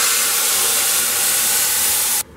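Filtered tamarind juice poured into a hot tempering for puliyogare gojju gives a loud, steady sizzling hiss that holds evenly for about two seconds, then cuts off abruptly.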